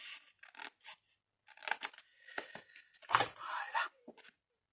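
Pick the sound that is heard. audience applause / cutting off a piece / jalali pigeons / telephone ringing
cutting off a piece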